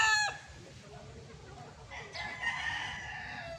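Gamefowl roosters on a game farm: a close crow cuts off quickly at the start, then after a pause another crow and some clucking rise from further off.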